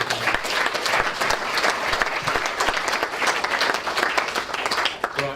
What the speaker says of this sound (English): just give us a quick round of applause for everyone who's managed to do that